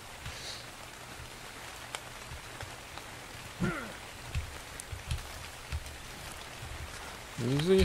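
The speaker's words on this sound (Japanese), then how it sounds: "何、雨降んのこれ。" Steady rain falls in the survival game ARK, a constant hiss of drops across the whole stretch, with a few brief game sounds and a louder creature call near the end.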